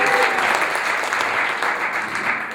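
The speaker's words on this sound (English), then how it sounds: "could we please give a round of applause for Jay Euler" An audience at a riverside community event breaks into sustained, dense applause, steady and loud from start to finish with no voices on top.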